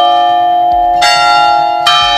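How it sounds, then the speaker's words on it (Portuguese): Church bell of the Igreja Matriz striking the half hour at 11:30 in the morning, loud and close with long ringing overtones, two strokes heard clearly over the hum of the first lingering toll. "Estamos aqui acompanhados do sino da Igreja Matriz, que acaba de aqui assinalar 11h30 da manhã"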